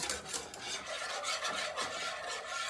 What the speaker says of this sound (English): I'm going to scoop out every last drop out of this can.